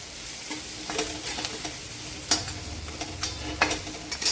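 A spatula stirs spices such as coriander powder through a sizzling pan for a dry chickpea greens dish, with steady frying hiss under sharp scraping strokes that repeat close up; no talking.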